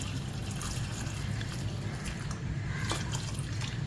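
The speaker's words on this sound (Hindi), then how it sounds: "मैंने 1 लीटर के करीब पानी लिया है, बस इतना डाल दिया इसमें" About a litre of water poured over soaking tamarind and dried plums in a kitchen makes a steady, continuous close trickle and splash that runs unbroken for several seconds.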